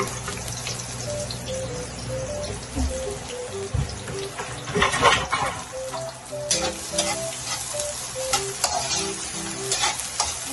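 Onion and garlic sauté in hot oil for chicken pastil, a continuous bright sizzle with stirring scrapes and occasional clatter, close and steady throughout with no talking.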